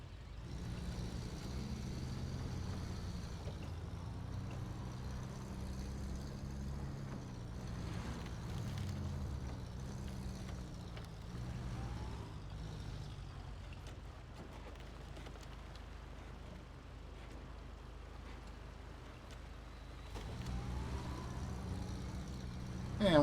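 In the video game Expeditions, a truck rumbles down a rocky slope with a steady low engine drone, varying slightly as it moves, with faint creaks and rattles over the terrain.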